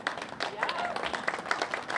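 Audience applause at a SUDA rally in Harrisburg, a steady patter of clapping from a crowd lasting the full two seconds, with speech mixed in over it.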